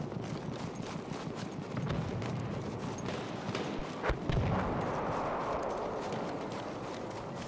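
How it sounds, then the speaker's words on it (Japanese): Gunfire in Battlefield 1 played on PS4 Pro, a dense, fairly distant crackle of shots rolling on without pause, with a louder nearby burst about halfway through. "割と銃声がするんだけど、こっち側から来てるんじゃないの。"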